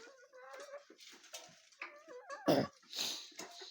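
A flock of about 30 chickens in a coop cluck and murmur nearby in soft irregular bursts, with a louder squawk partway through.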